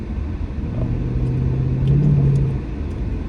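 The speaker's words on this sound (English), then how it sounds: "I'm just having fun with my car, you know." Ford Mustang car engine rumbling steadily while driving, a low mid-frequency drone that swells slightly louder as it revs near the middle before easing back, with no voices.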